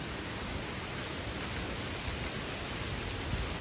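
Heavy rain pours steadily outdoors as a dense, continuous roar of drops with no gaps and no voices.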